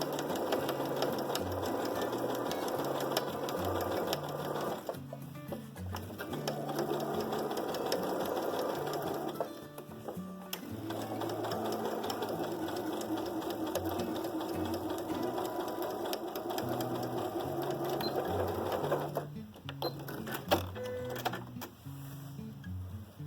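A sewing machine stitches a slow circle for a small car trash bag, running in steady mechanical bursts with brief pauses as the presser foot is lifted and the fabric turned, fairly faint and without speech.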